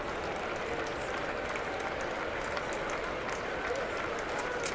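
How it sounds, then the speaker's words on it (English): A baseball crowd at a Thursday afternoon Twins vs Cleveland game applauds in a steady, dense wash of clapping and crowd noise that holds at an even level throughout, with no single voice standing out. "Thursday afternoon crowd settling in"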